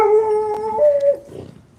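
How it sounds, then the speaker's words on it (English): A big dog howls close up in a drawn-out, wavering tone that slides downward and fades into a breathy trailing whimper. "Oh my goodness, big dog, big dog."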